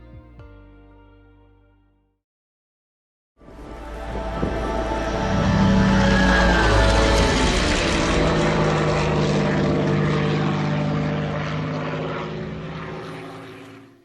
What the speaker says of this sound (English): At number 2 we have the Milviz Cessna 310R.